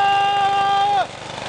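A lawn mower engine drones steadily while the lawn is being mowed, loud and close with a constant whining tone that suddenly drops in pitch and roughens near the end of the short stretch.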